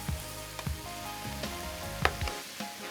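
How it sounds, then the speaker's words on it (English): Swiss chard greens and onion fry in a little oil, a steady close sizzle with occasional soft stirring scrapes and clicks throughout. "So all I'm doing here right now is to mix the onion together with the greens, a little bit of that oil."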